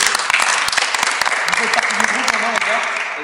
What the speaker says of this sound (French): Je voudrais aussi qu'on applaudisse les 2 personnes qui sont venues, que ce soit Yanis et Loris.